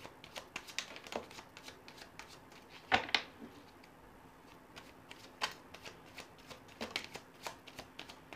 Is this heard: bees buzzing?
no